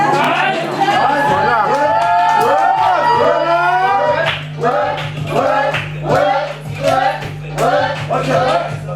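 Applause and cheering from a crew on a short-film set, with crowd chatter and whoops running continuously, loud and close, under overlapping voices.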